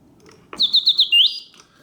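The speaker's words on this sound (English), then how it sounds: "the bird sings with full voice, hitting all of the proper oscillating notes, yet the mechanism runs smoothly and quietly" A vintage Reuge mechanical singing bird in a cage, driven by bellows, gives a bright warbling song: four quick rising whistled notes and then a longer sweeping trill, loud and close after a quiet moment.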